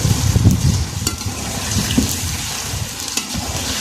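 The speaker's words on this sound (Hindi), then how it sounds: "ये हमने अरबी जो है घी में डाल दी है, इसे हम हल्का फ्राई कर लेंगे।" Taro root (arvi) frying in ghee for arvi salan, a continuous crackling sizzle with bubbly bursts, loudest at the start, then settling into a steady close hiss.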